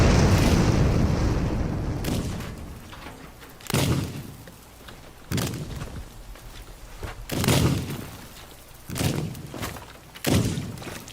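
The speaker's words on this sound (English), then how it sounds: "that was a big explosion." Explosions in the destruction game Teardown: about five heavy booms, each starting with a sharp crack and fading into a long rumbling tail, spaced a second or two apart after a loud opening blast.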